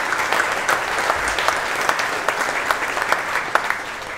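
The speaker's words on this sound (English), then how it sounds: "Round of applause." Audience applause at a brass band variety concert, a steady, dense round of clapping from a full hall that carries evenly throughout with a few sharper individual claps standing out.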